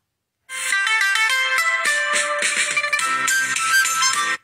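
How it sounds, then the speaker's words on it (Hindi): A phone ringtone plays a bright, melodic electronic tune of rapid, repeating tones. It starts suddenly after a short silence and continues loudly and alone for about four seconds. "एक फोन आ रहा था इसलिए वो बीच में डिस्टर्ब हो गया।"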